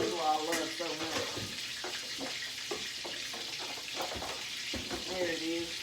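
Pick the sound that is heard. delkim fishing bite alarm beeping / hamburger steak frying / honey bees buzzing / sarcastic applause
hamburger steak frying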